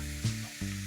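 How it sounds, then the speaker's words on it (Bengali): Spice paste frying in a pan for Bengali fish malai curry, with a little sugar just added, gives a short, steady, close sizzle with a low hum beneath it. "আমি এগুলো একটু মশলাটা ভেজে নিচ্ছি"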